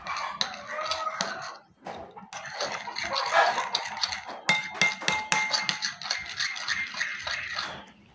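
Cucumber salad with salt and lemon mixed in a bowl, utensils clinking and scraping against the dish in steady irregular clatter, close and moderately loud.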